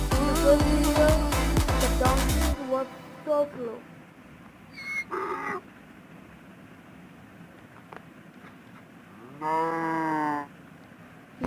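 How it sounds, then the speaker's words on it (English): A cow gives a drawn-out, nasal moo near the end, following a stretch of music and quieter animal and ambient sounds, with people talking at times in a racing game featuring farm animals. "Yes, the cow is second."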